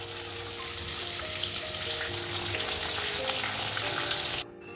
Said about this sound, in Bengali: আর এদিকে দেখো চলছে মাছ ভাজা।